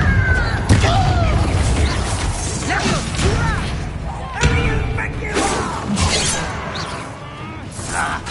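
A spell cast in a video game goblin encounter bursts into a loud explosion, with booming crashes and shattering debris over dense effects and a voice calling out amid the chaos.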